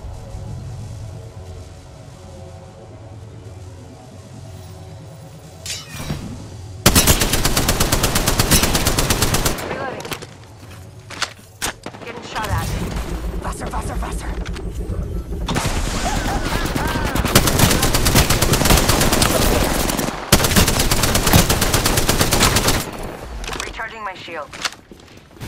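Loud bursts of automatic weapon fire in Apex Legends combat, long rapid strings of shots broken by short pauses, with in-game voice callouts between them.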